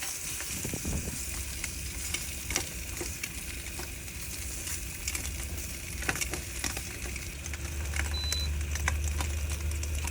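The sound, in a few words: meat frying and crisping in a pan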